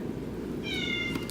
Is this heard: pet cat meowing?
yes